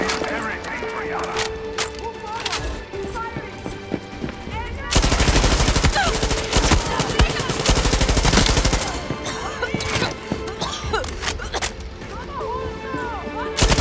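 Heavy gunfire in the game Far Cry 6, scattered shots giving way to a loud sustained burst of automatic fire and explosions midway, with shouting voices over the battle.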